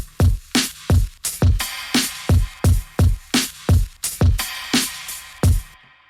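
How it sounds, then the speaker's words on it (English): An electronic drum beat built partly from samples, a steady pattern of punchy kicks and crisp snappy hits with bright metallic tops, loud and regular, playing alone before stopping abruptly. "I just made some drums to start off with"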